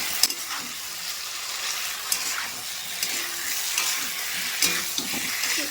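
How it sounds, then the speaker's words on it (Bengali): Vegetables are stir-fried in a pan with ginger-garlic paste and tomato for a mrigal fish dish, a close, steady sizzle broken by repeated clinks and scrapes of the spatula, with no voices. "এবারে আদা রসুনের গন্ধটা চলে যাওয়া পর্যন্ত আমি সবজিটা খুব ভালোভাবে কষে নেব"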